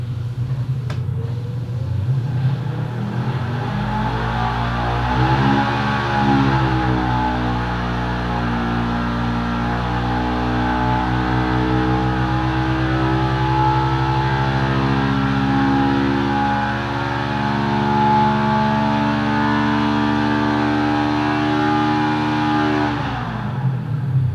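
A Polaris RZR engine with a performance tune runs on a dyno with its spark arrestor removed, a loud continuous drone that climbs steadily in pitch through a long sweep before dropping off near the end, with no talk.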